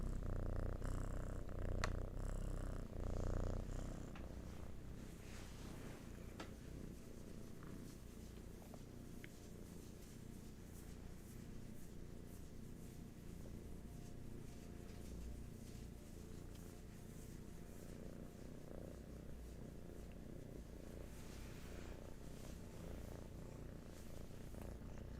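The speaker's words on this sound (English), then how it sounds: "Some kitten purrs for all of you." A kitten purrs steadily and close up for the whole stretch, a low continuous rumble with a louder, fuller patch at the start and no voices.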